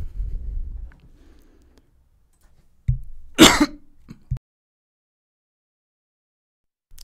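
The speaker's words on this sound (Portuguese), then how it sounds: "Esqueci de desligar o microfone pra tossir" A single sharp cough stands out close to the microphone amid near silence, with a few small throat sounds around it.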